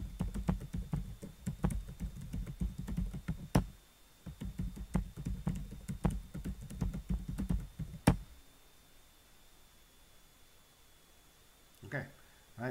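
Typing a new password on a computer keyboard, a quick run of close clicking keystrokes with a few louder key hits, then a pause and a final brief burst of taps.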